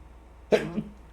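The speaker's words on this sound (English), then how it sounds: "I had to blow my nose" Someone nearby gives one short, loud nose blow or snort that fades quickly, set against near silence.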